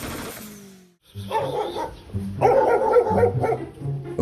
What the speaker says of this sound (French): Voilà un chien de garde avec lequel il ne faut surtout pas se frotter.